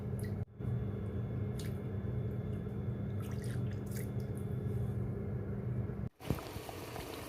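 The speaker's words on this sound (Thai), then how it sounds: "เสร็จแล้วเราก็ล้างเมือกของแป้งมันออกสักสองสามน้ำนะคะ" Dough noodles made with tapioca starch being rinsed in a basin of water to wash off the sticky starch, a steady close sloshing and trickling with a couple of brief pauses, no voices.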